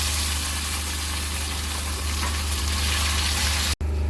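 Steady, loud sizzling as mustard greens are added to onions in a frying pan, continuous and close, with a brief cut near the end.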